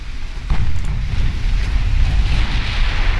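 A torpedo strikes a ship in the naval strategy game Ultimate Admiral Dreadnoughts, giving a loud, broad rumbling blast that opens sharply and then sustains as dense low roaring noise.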